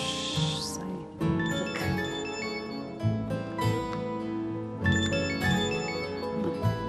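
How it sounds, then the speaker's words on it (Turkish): A phone rings with bright, repeated bell-like tones in a series of bursts that stand clearly above a busy indoor background. "Ay şu telefonlar da bir rahat vermiyor be."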